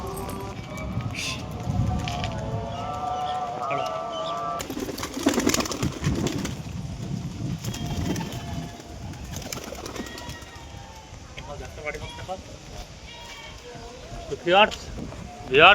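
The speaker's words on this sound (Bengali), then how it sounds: "পুরো আকাশ ভরে গেছে কবুতরে।" A flock of pigeons coos from a rooftop pigeon farm with the sky full of birds, a continuous layered murmur of calls with voices talking over it.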